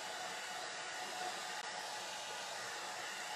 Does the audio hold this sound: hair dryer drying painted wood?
yes